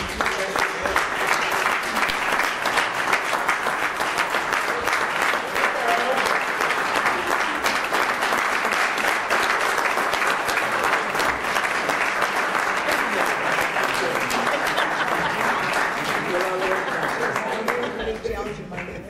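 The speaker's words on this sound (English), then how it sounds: "I would like to once again give a round of applause and ask our inductees to stand so they can be recognized one final time" Sustained audience round of applause for inductees at an annual Wall of Honour ceremony, a loud, dense, continuous crowd clapping lasting nearly twenty seconds before tapering off, with some voices underneath.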